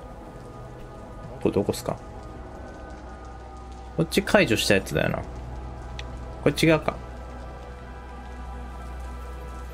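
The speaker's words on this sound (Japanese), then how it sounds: "あ、雨降ってきた。" Rain falling in the Watch Dogs game world, a soft steady hiss under someone speaking Japanese in short bursts, with a low hum beneath.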